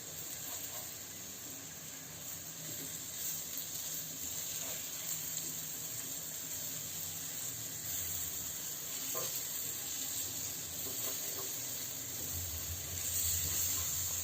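Capsicum peppers frying in oil in a pan give a steady, close sizzle, with occasional soft stirring and flipping noises, fairly quiet and without speech.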